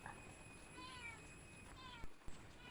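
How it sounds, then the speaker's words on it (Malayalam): A cat meows several times in soft, drawn-out calls, fairly faint, begging for food during cooking of a bread and potato snack, with a couple of sharp clicks near the end. "ഇതാ പൂച്ച ഇതിൻ്റെ മണം കൊണ്ട് വന്ന് അവനിത് കഴിക്കാൻ വേണ്ടി ചോദിക്കുന്ന"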